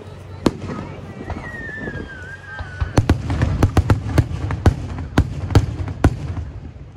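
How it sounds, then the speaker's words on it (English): Fourth of July fireworks display: a rising whistle, then a rapid run of loud crackling pops and bangs going off in quick succession, fairly close and clear over a low outdoor hum. "I love these fireworks."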